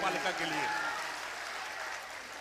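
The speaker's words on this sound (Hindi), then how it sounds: "तो एक बार जोरदार तालियां नगर पालिका के लिए" Crowd at an Urdu poetry mushaira applauds in a dense, steady wash of clapping, with a voice audible over the start before the applause carries on alone.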